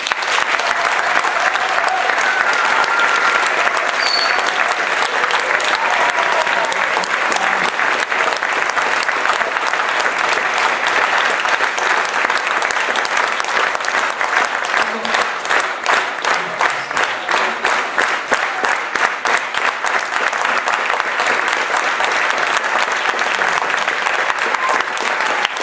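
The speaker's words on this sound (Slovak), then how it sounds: "teraz hovorím, váš veľký potlesk" A concert crowd at a youth choir performance gives long, loud, sustained applause, the dense clapping settling into a more rhythmic, pulsing pattern toward the end.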